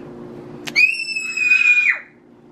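A person in a kitchen lets out one loud, high, sustained scream lasting about a second that drops off at the end, standing out against a quiet room background.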